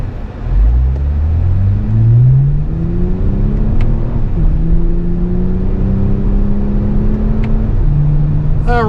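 Inside a 2024 Toyota Camry TRD on back roads, the engine pulls through rising gears with a steady rumbling drone and road noise, revving up and shifting several times, loud and continuous.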